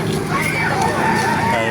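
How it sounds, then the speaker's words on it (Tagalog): Chickens and roosters at a busy poultry market in Baliuag, Bulacan, crowing and clucking over a noisy crowd with people talking nearby, continuous and close. "Napakarami manok kayo dito sa Baliwag"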